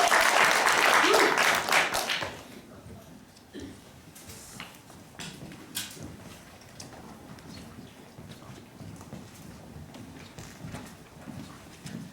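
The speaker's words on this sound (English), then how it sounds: "You may applaud for this." Theater audience at an improvised zombie apocalypse comedy show bursts into loud applause for about two seconds, then it fades to a quiet room with scattered footsteps, small knocks and faint murmuring.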